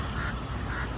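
Birds call overhead in Kandy, Sri Lanka, a loud, dense burst of harsh quacking cries over a bright, noisy outdoor background.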